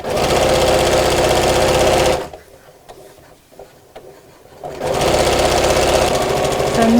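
A sewing machine stitches around a curve on a fabric make-up organizer, running loud and close with an even whirring chatter, stopping for a couple of seconds, then starting again at the same speed.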